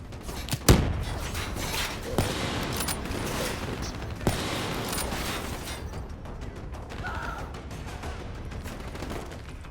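Gunfire from the Call of Duty Black Ops 3 campaign sounds as a sharp, loud shot with a few more spaced reports over a constant rumble of battle noise.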